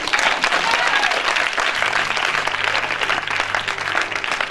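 A church congregation bursting into sustained, dense applause and clapping, loud and continuous, with faint cheering voices mixed into the crowd noise.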